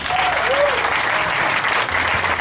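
A church congregation at a Sunday service bursts into loud, sustained applause to acclaim the Lord, a dense wash of clapping with faint voices mixed in.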